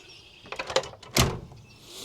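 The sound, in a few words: motorhome screen door latching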